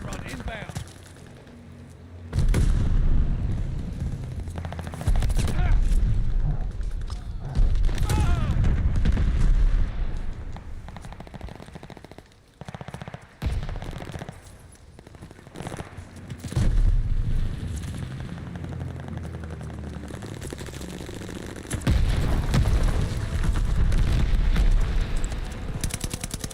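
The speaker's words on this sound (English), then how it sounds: "Friendly bombing run inbound." Heavy, rumbling explosions from a friendly bombing run in Call of Duty Vanguard roll on in long loud waves, mixed with distant gunfire and game noise.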